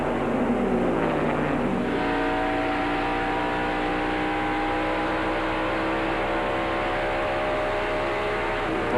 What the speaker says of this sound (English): Boy, that motor is turning up some RPM.